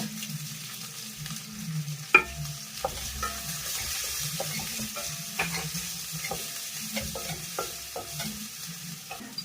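Ginger, green chili, curry leaves and onion sauté in a pan with a steady sizzle of hot oil, broken by occasional stirring scrapes and clinks, heard close and on its own.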